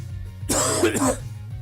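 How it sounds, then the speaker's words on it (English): A single rough cough or throat clearing bursts out for about half a second, close and fairly loud, with quiet room tone before and after. "Please pardon my cough."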